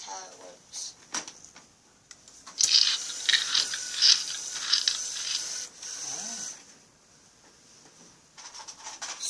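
A handmade toy alligator's mechanism opening and shutting its mouth, a grinding, ratcheting mechanical whir in uneven bursts, close and fairly loud.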